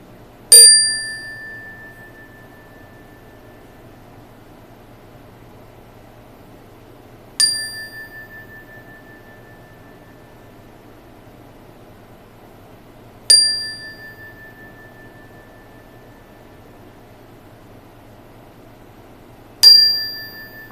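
A bell struck singly four times at intervals of about six seconds, each bright ding ringing on and fading slowly into a quiet room.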